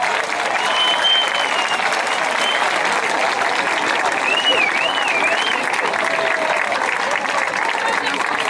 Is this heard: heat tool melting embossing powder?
no